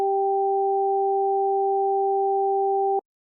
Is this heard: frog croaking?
no